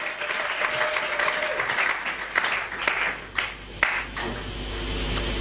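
A church congregation applauds at a French-language service, steady indoor clapping that carries on for several seconds with a few louder hand claps standing out.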